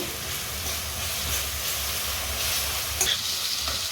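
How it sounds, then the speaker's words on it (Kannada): Green chillies and chicken fry in hot oil with a steady, close sizzle while being stirred, and a few sharper scrapes of the spoon near the end. "ಎಣ್ಣೆಯಲ್ಲಿ ಫ್ರೈ ಆಗಲಿ. ಸ್ವಲ್ಪ ಈ ಥರ ಆಡಿಸ್ತಾನೆ ಇರಿ, ಇಲ್ಲಾಂದರೆ ತಳ ಅಂಟ್ಕೊಳ್ಳೋ"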